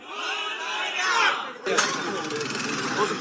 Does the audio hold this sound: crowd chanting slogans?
yes